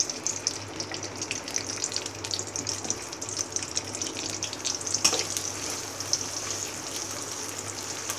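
Chopped onions fry in hot oil in a wok with a loud, close, continuous sizzle and crackle, steady throughout with a low hum beneath.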